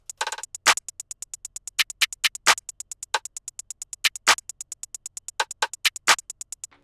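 A Pluggnb drum pattern plays on its own: rapid, evenly ticking hi-hats with punchy claps, rim clicks and a snare landing at regular intervals in a tight, bouncy loop.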